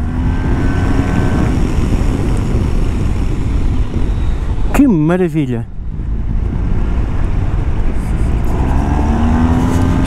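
A 2022 Yamaha TMAX sport scooter being ridden, its engine droning loudly and steadily with wind rush, briefly swelling in revs midway, while the rider talks throughout.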